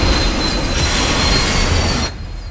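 Loud, continuous metallic squeal of train wheels grinding on rails, broadband and steady, cutting off abruptly near the end.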